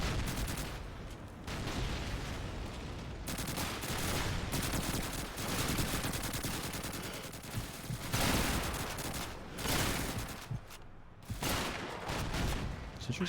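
Dense, continuous gunfire from the 2005 World War II shooter Call of Duty 2, overlapping rifle and machine-gun bursts with distant explosions, loud and relentless.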